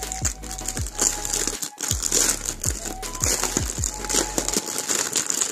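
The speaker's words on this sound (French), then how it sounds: "Donc, je vais la déballer pour qu'on voit mieux." A packaged diamond painting canvas being unwrapped, close crinkling plastic and rustling with soft thuds and handling noises, no talking.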